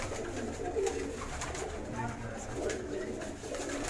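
A red Cheena pigeon coos in a loose, continuous murmur, close by and moderately loud, with faint talk running underneath.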